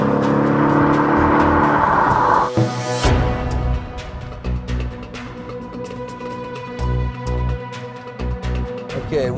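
A 2014 Mercedes-Benz E63 AMG S launching hard off the line, its engine roaring loudly as revs climb, then a sharp shift and further pulls with gear changes, heard from inside the car without talk.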